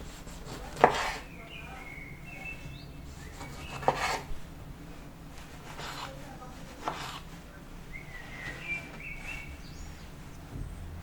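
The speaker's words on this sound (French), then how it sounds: "Ensuite, on va couper les tomates." A knife chops tomatoes on a cutting board in a home kitchen. A few separate, fairly quiet cuts and knocks sit over low room noise, with faint chirps in the background.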